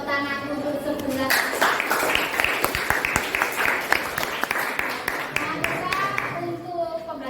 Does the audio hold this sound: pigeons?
no